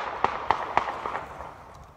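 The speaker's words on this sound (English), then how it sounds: "I'm hoping that was firecrackers" Firecrackers pop outdoors at night, about five sharp cracks at a quick, even pace, close at first and then thinning into fainter pops.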